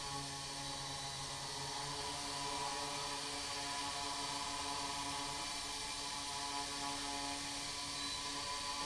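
A Blade 180 QX quadcopter hovers close by, its rotors keeping up a steady, continuous buzzing whine with a few tonal hums, loud and unbroken and with no talking.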